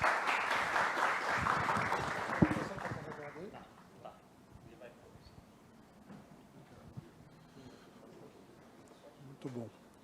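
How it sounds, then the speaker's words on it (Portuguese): An audience at a business talk on smart cities claps in a dense, lively burst of applause for about three seconds, then it fades into a quiet room with scattered small noises and some speech. "Uma salva de palmas ao Eric, por favor."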